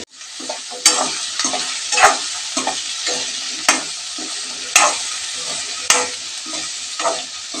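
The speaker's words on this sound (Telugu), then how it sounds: "ఇప్పుడు ముందుగా కట్ చేసి పెట్టుకున్న బెండకాయ ముక్కలు వేసుకుందామండి" Cut okra pieces stirred into a pan with softened onion and tomato, producing a steady sizzle of frying broken by repeated scraping strokes and sharp clinks of a spoon against the pan, close and without talk.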